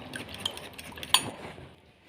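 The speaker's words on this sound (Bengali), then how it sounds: "আমি একটা কাঁটা চামচ দিয়ে ডিমটাকে ভালো করে ফেটিয়ে নেবো ফার্স্টে" A fork whisking eggs in a bowl, a quick run of soft clinking taps with one brighter metallic clink partway through, close and fairly quiet, with no voices.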